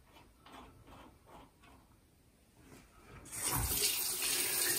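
Kitchen faucet fitted with an aerator and no filter, running water into a sink; after a few seconds of light, intermittent splashing the flow turns on fully into a loud, steady hiss.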